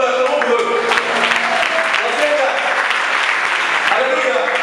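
Church congregation applauding and cheering during a service, a dense continuous wash of clapping with voices mixed in, steady and fairly loud throughout.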